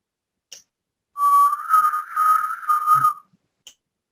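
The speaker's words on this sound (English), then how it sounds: "can you whistle?" A single clear whistled tone from a lecture audience member, rising and wavering over about two seconds with a few pitch bends, alone in a quiet hall with faint clicks before and after.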